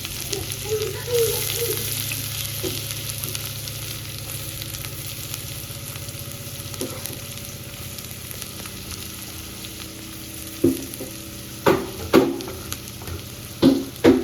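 Chopped onion frying in hot oil for Mandya-style egg burji makes a continuous, even sizzle, joined in the last few seconds by sharp, repeated clatters of stirring.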